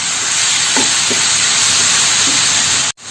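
Chopped ripe plantain sautés in a pan, a loud, steady hiss of frying with a few faint scrapes from stirring, which stops abruptly near the end.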